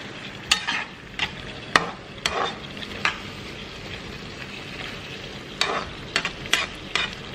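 Gizdodo, gizzard and plantain, fries in a pan while being stirred: a low sizzle is broken by repeated spoon scrapes in irregular bursts, close up, with no voices.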